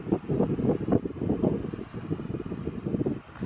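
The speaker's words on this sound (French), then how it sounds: "Il y a plus de vent ici, ouais." Wind blows outdoors at a site in La Ferté-Vidame, a rough, gusting rumble that buffets the microphone in uneven surges, fairly close and moderately loud, with no voices.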